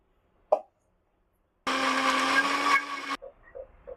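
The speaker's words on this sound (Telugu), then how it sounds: "అదే జార్లో ఇప్పుడు 2 టమాటాలని కట్ చేసి పెట్టుకున్నాం కదా, వాటిని కూడా మిక్సీ పట్టుకోవాలి" A mixer grinder jar purees two cut tomatoes in one loud, steady burst of about a second and a half, stopping abruptly; a short knock comes before it and faint clinks follow.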